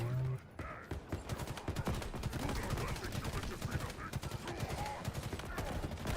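Rapid, overlapping gunfire in Halo Infinite's campaign crackles through a dense, busy battle soundscape, with bursts repeating steadily across the clip and a voice talking over the action.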